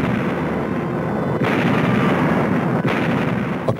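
WWII naval bombardment of Tarawa by cruisers and destroyers, heard as a continuous loud rumble of gunfire and explosions with two brief dips, dense and steady throughout, with no voices.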